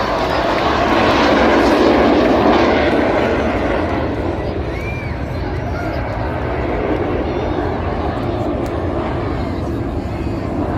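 Red Arrows jets make a display pass at the Clacton on Sea air show, a loud, broad roar that peaks early and then settles into a sustained rumble, with a commentator talking over it.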